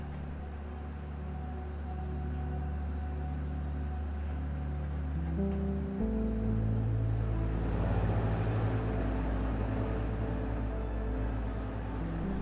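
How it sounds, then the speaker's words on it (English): Dumper trucks hauling rubble from the working face to the crusher at a limestone quarry, deep steady diesel engine rumble that grows heavier and louder about halfway through as a vehicle draws near. "A continuous stream of dumpers ferries the material from the working face to the crusher"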